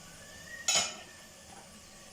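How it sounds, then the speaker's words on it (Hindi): A spoon scrapes once through thick carrot halwa in a pan, a brief, close stir with a faint sizzle, then quiet cooking. "अब इसमें हम हिलाएंगे चम्मच"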